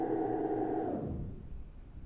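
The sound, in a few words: frozen reverb effect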